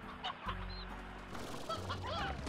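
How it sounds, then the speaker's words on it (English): Roosters in the farming game Slime Rancher cluck and squawk in quick overlapping calls, several birds close by over a low steady background hum. "we are so many roosters"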